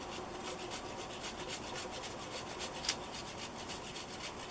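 Fresh turmeric root rubbed quickly across a metal grater, producing steady, rapid rasping strokes in an even rhythm, close but fairly soft, with no voices.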